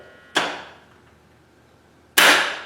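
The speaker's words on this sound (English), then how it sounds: "when we have power to our disconnect now and our thermostat calls, we hear the solenoid open up" Refrigeration solenoid valve snapping open on a thermostat call during automatic pump down: two sharp metallic clicks about two seconds apart, the second louder, each with a short fading ring, in a quiet room.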